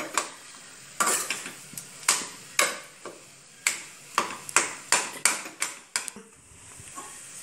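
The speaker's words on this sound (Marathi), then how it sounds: "आता छान परतून घेऊया थोड्या वेळ." Spoon stirring potato bhaji sautéing in a pan, about a dozen sharp scraping clacks at an uneven pace over a soft sizzle, close up.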